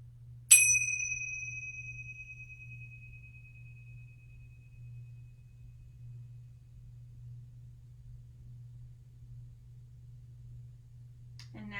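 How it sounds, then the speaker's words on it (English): A meditation chime struck once, a bright ringing tone that decays slowly toward silence over a low steady hum, with a soft movement sound near the end. "I invite you to follow the sound of the chime to its completion"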